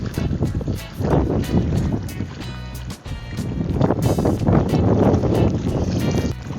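Strong gusting wind roars and buffets the microphone outdoors at night before rain, loud and continuous, with occasional thumps.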